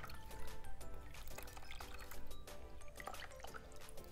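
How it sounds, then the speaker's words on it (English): Water drips and trickles from a wool diaper cover as it is gently squeezed by hand, a faint, close wet patter with uneven small drops and no talking. "So we're just gonna gently squeeze out as much water as we can."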